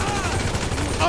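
Gunfire from a helicopter in the video game GTA V, a rapid rattling burst of shots heard briefly and close.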